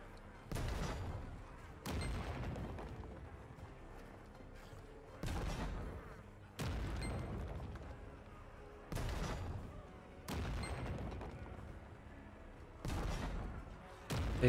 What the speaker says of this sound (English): Use the cannons and defend the battlements.